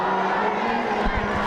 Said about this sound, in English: Huge GANADO crowd trying to will their Hornets to let's go.